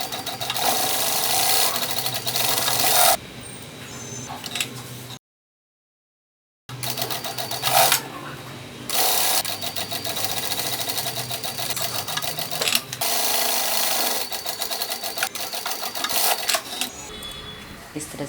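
Sewing machine running in bursts while stitching a shoulder seam on a four-dart blouse, a steady rapid mechanical whir that starts and stops, with a silent gap and occasional speech in between.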